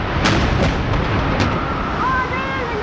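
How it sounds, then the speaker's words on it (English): A loud, rumbling explosion as a second plane hits a World Trade Center tower on September 11, 2001, with sharp bursts over steady roaring noise, sounding distant and muffled, with faint voices underneath. "There was another plane just flew into. There is an explosion."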